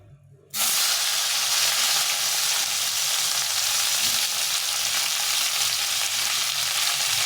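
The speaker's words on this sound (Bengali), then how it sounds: "এখন আমি এই তেলে প্রথমে করলাটা একটু ভেজে নেবো" Pieces of bitter gourd drop into hot oil and burst into a loud, continuous sizzle that holds steady, close by, with no talking.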